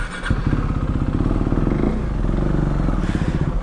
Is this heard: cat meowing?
no